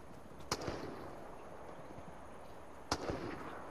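Distant gunfire in Fortnite: two faint, sharp cracks a couple of seconds apart, each with a brief echoing tail, over a steady background hiss.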